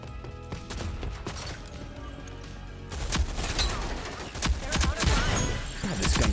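Gunfire from a weapon in the online shooter Rogue Company, dense and busy with bursts of shots that grow louder and more frantic in the second half over a steady game soundtrack.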